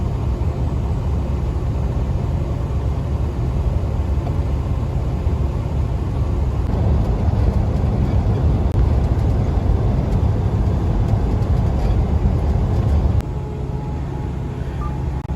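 A stepdeck freight truck cruises down a Texas highway at night, a steady low cab rumble and road drone that swells slightly midway and continues without voices.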